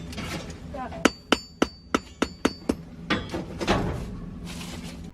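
A blacksmith hammers a metal hook on an anvil: about eight sharp, ringing blows land in a steady, even rhythm, followed by a few softer, duller knocks and clanks close by.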